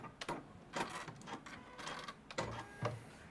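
Domestic sewing machine stitching sleeves onto a garment of Lurex and viscose fabric, running in short stop-start bursts of rapid mechanical clatter, faint and close, with no voices.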